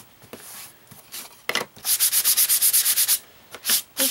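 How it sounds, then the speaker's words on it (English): A phone stand is lightly sanded by hand with a foam sanding pad, giving a run of quick, close rhythmic rubbing strokes, a few scattered scrapes first and then a steady back-and-forth burst of about a dozen strokes, with no talking. "The first thing that I want to do is just lightly sand it."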